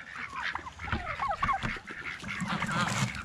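A goose honks and calls close by among a group of farm birds being fed outdoors, with repeated nasal honks mixed with other fowl noise over about three seconds.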